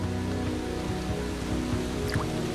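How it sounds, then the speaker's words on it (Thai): Steady rain falls in the Amazon rainforest, a dense, continuous patter of drops with no break and no voices. "ฝนตกตรงเวลา"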